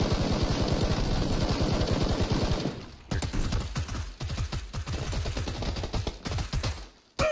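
Sustained automatic gunfire in the online battle royale game PUBG Battlegrounds, a dense continuous barrage that drops away then returns as rapid irregular bursts of shots, loud and close with no talking.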